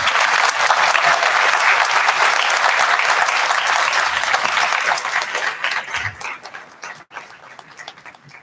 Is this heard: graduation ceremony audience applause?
yes